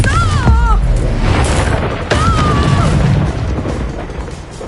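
A Confringo spell blast in the video game Hogwarts Legacy erupts as a deep booming burst, followed by a second rumbling impact, layered with whooshing magical whistles and game effects while a voice speaks.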